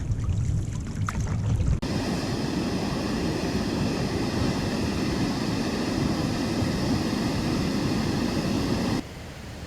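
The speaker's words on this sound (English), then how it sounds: "The sound of the waterfall concealed our presence." Blueberry Falls roars with a steady, dense broadband rush of falling water, constant and fairly loud for most of the stretch before dropping abruptly to a softer level near the end.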